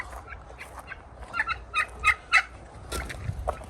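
Turkeys on a homestead gobble in several quick bursts, fairly close but soft, the calls clustered in the middle of the clip over quiet background.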